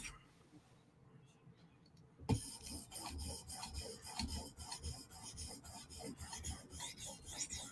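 A Chris Reeve Umnumzaan knife blade is sharpened toward a mirror edge, with quiet handling at first, then continuous rhythmic rasping strokes close up, fairly faint overall.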